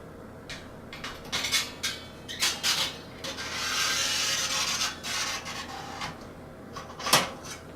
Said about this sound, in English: insert the inner basket.